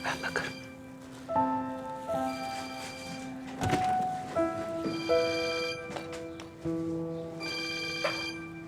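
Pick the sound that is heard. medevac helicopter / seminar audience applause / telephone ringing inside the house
telephone ringing inside the house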